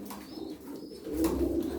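Pigeons in a Turkish fancy-pigeon loft at Darıca coo softly, a low repeated burble that swells louder in the second half of the short stretch, with no voices over it.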